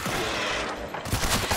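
Gunfire from the zombie war film World War Z, a rapid crackling volley of shots over a rumbling roar, growing sharper and denser toward the end.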